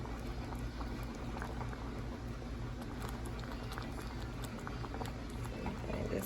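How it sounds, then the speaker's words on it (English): A pot of water boils on a stove, giving a quiet, steady bubbling and soft seething patter that continues evenly throughout, with no voices. "it's been boiling for a couple minutes"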